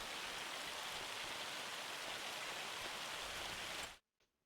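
Hail falling in the farming game Farming Simulator 25, a dense, even hiss of pattering ice that holds steady at full strength and then cuts off abruptly near the end, heard alone.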